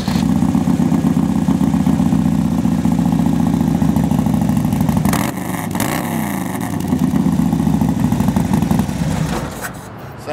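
A fuel-injected 2010 Harley-Davidson Ultra Classic Electra Glide runs close by with a steady, loud, throbbing idle. It briefly dips and shifts in tone partway through, then settles back to an even rumble.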